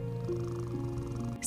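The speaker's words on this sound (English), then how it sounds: "It's the comfort purr." A cat purring softly and close by, a low steady rumble with faint rhythmic pulsing that continues unbroken, heard alone with no voices.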